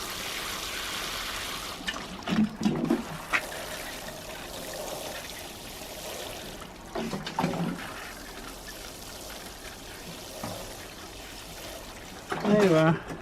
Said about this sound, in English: it's a good old watering can. It soon drops some water on them